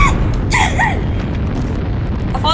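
A firework bursts with a booming explosion in the Firework Playground video game, one loud blast with crackling sparkle tails close up, over game ambience.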